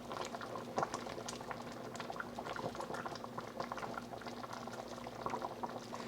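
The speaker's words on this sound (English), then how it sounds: "Let it come back up to a boil. All right. We're up to a boil here." A pot of court-bouillon cooking liquid boils hard and steadily, with dense bubbling and popping that holds constant throughout, close up and fairly loud.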